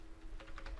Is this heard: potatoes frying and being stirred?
no